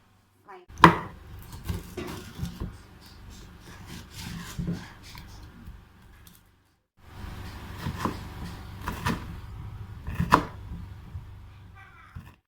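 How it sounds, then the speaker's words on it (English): Onions chopped with a knife on a cutting board, a series of irregular close knocks and scrapes, pausing briefly midway before the chopping resumes. "Now you want to chop these onions."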